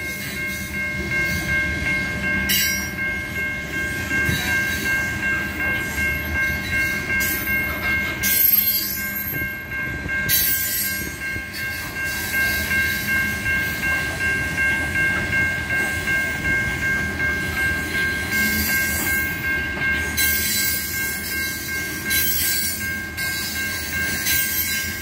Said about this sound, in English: the train has 130 cars